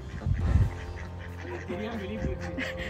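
Two ducks or geese on a farm honking and quacking in short bursts, loudest near the start, then softer calls continue under a voice talking in Tamil.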